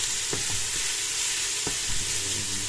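Meat and onion frying together in a pan, a steady close sizzle with a few soft knocks and scrapes of a utensil stirring through it, no voices.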